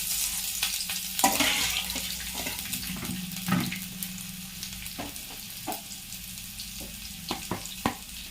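Coarsely crushed garlic fries in hot oil for a Telugu dal dish, a soft continuous sizzle broken by sharp scraping stirs and clinks of the spoon against the pan, with no one talking.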